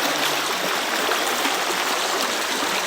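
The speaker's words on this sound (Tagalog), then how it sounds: "So, nasa sapa ako guys." Flowing stream in the countryside, a steady, loud rush and babble of water heard up close and continuing without a break, with no voices.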